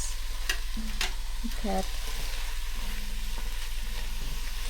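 Food frying and being stirred on an electric portable double hot plate set to level 4, a steady broadband sizzle with a few utensil scrapes and brief tones.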